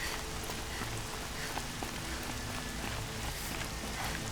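Steady rain in Horizon Zero Dawn, a dense, even hiss of drops pattering on surfaces that holds constant throughout, with a few faint taps and tones from the game sitting underneath.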